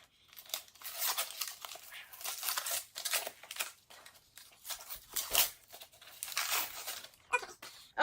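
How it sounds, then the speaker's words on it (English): Tearing and crinkling of wrapping paper as a wrapped book is unwrapped, repeated rustling rips and crumples at close range, quiet overall. "I'm going to unwrap another book"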